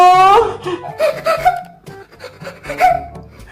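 A voice imitates a ghost wailing and crying indoors at home, with drawn-out, wavering moans and sobbing rising and falling across the clip, fairly loud and close.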